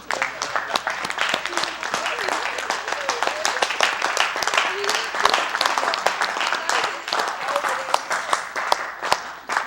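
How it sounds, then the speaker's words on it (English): A church congregation claps their hands in a sustained round of dense, crowded applause, steady and fairly loud throughout, with a few voices faintly audible underneath. "Give me your hand clap."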